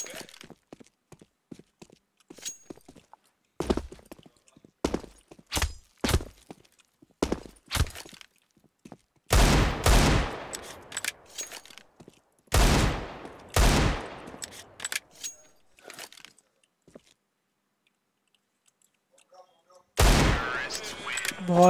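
Desert Eagle pistol shots ring out in a CS:GO match, loud sharp cracks fired singly and in quick clusters with irregular pauses and a longer silent gap, mixed with faint game sounds.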